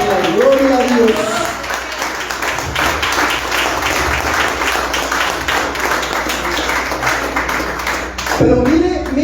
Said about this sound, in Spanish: Denle un fuerte aplauso, Señor.